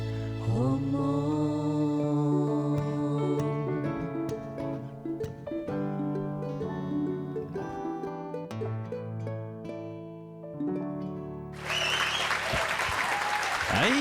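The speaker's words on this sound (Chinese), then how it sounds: "掌声鼓励一下" Audience applause breaks out loud and broadband after a stretch of sung music on a Hakka folk singing contest show, filling the last couple of seconds at full strength.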